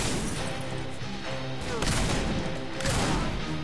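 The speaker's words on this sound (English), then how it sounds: "Shotgun. Got that from the start." Shotgun fire in the video game Saints Row 4 blasts in loud, dense bursts over a constant wash of game noise, with two heavier booms standing out near the middle and end.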